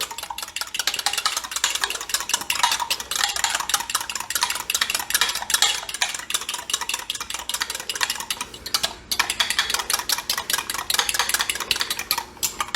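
Egg and milk are stirred together in a bowl for a blackberry cobbler, with a steady, busy scraping and clinking of the utensil against the bowl that runs without a break, close and moderately loud.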